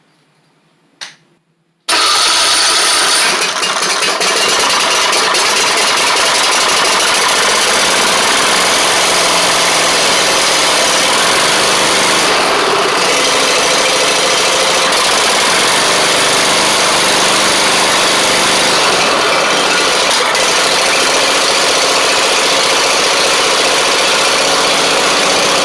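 A Troy-Bilt zero turn mower engine cranks after a brief quiet moment, catches, and settles into a loud, steady close-up idle that runs unbroken for over twenty seconds, with no talking.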